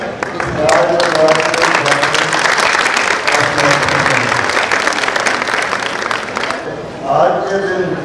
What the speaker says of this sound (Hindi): सभी भाई बहनों मिल करके बहुत जोर से ताली बजा करके